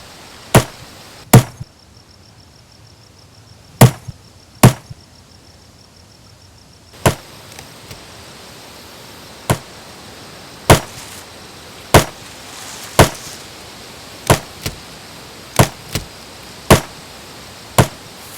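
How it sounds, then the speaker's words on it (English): Axe blows striking a tree trunk, layered as designed chopping effects: about fifteen sharp, loud wooden thwacks at uneven intervals, each a crisp transient with a short decay, over a faint steady background hiss. "you saw him initially hit the tree for the first time"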